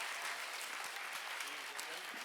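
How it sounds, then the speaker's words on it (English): An audience applauds a conference panel with a steady, dense patter of clapping that fills the hall, sounding moderately distant with voices faintly mixed in underneath. "They need a round of applause."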